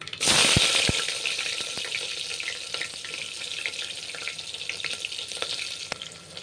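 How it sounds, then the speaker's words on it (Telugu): Mustard seeds and urad dal crackling in hot oil with onion added, a loud burst of sizzling at the start that settles into a steady, close frying hiss with occasional pops. "ఆవాలు ఉద్దిపప్పు అయితే చిప్పట్లాడుతుంది"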